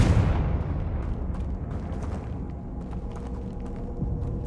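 A Confringo spell from Hogwarts Legacy bursts with a loud booming blast at the start, then a rumbling, crackling tail of debris and fire continues beneath scattered sharp pops.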